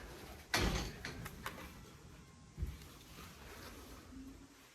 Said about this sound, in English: I keep pulling on the wrong door.